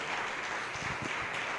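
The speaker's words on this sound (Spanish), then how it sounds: "Démosle un aplauso a Cristo por esto" A church congregation applauds steadily throughout a sermon, a dense wash of clapping with no voices standing out.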